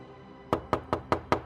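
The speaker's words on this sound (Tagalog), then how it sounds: "Pareho kaming naggulat nang biglang may kumatok sa pinto ng kwarto namin." Five quick, evenly spaced knocks land on a bedroom door in a house, close and crisp against a quiet background.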